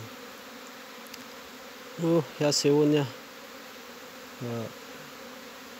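A low, continuous hum of honeybees working at the hive runs quietly throughout, while someone speaks Russian in short bursts over it.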